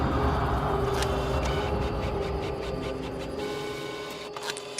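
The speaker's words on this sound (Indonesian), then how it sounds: "tiba-tiba printer di ruang sebelah berbunyi sendiri" A large printer runs steadily with a dense mechanical rumble and whir, punctuated by occasional clicks and feed sounds, fairly close and continuous throughout.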